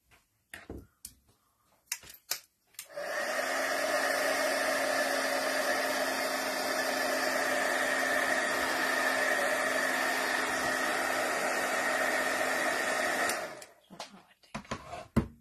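Hair dryer blowing on wet craft pieces, a steady close whirring hum that starts abruptly, runs evenly for about ten seconds and then cuts off, with small handling clicks before and after.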